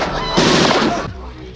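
Gunfire from the horror film Halloween III: Season of the Witch, a loud, dense burst of shots lasting under a second over a film soundtrack, then fading.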